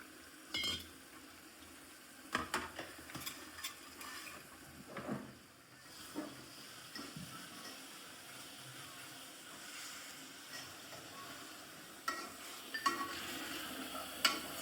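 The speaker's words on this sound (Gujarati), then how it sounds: "ગેસના નોર્મલી તાપમાન સાથે આપણે શેકાવા દઈશું" Green chilli paste roasts in a pan on a gas flame, giving a soft, low sizzle broken by scattered scrapes and clinks of stirring against the pan, close but quiet.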